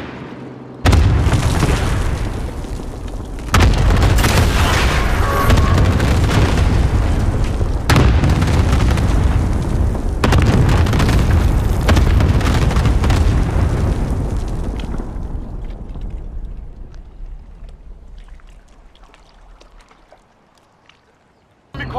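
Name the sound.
cluster strike killstreak explosions in Call of Duty: Modern Warfare video game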